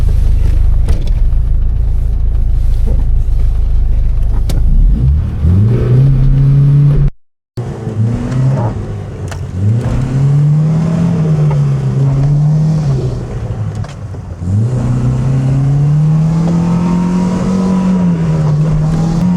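A jeep driven hard up a mountain track toward Murgash peak, its engine revving loudly in long rising and falling surges, with a brief gear-change cut partway through and no speech.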